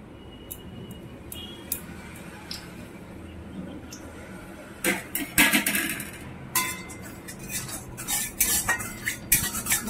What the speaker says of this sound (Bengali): ভালো করে কড়ার মধ্যে তেলটা মাখিয়ে নিচ্ছি।